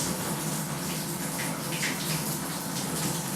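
Hot water gushes steadily from a bathroom tap into a basin, a continuous loud rushing hiss with no voices.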